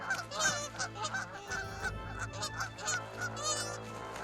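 Dragon in Heroes of Might and Magic: Olden Era with goose-like calls, a run of repeated nasal honks in an uneven rhythm, close and clear over a low rumbling bed, with no talking.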